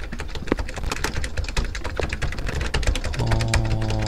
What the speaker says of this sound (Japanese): キーボードか。